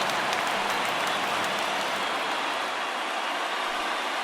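A baseball stadium crowd of about 25,000 at a Twins versus Yankees game in MLB The Show 19 cheers and roars in a dense, sustained wash of noise with no break.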